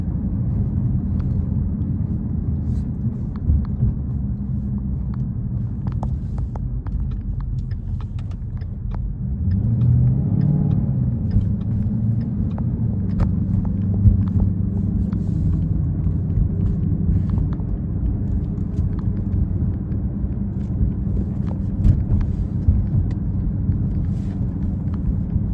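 A 2015 Roush supercharged Mustang GT rolls along a neighborhood road, its engine a steady low rumble with a brief surge around the middle, heard from inside the car.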